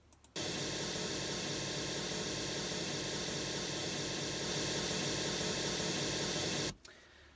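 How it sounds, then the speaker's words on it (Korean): A pink noise test signal hisses across the whole range at a constant level, switching on abruptly and cutting off just as suddenly about six seconds later. "핑크 노이즈 소리 한번 들어보세요"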